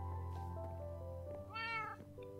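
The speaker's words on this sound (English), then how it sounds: "These cats, they're just so rude." Cartoonish cats meowing in the game Paperhats 3, several rising, wavering meows around the middle over a steady synth music bed, fairly close and clear.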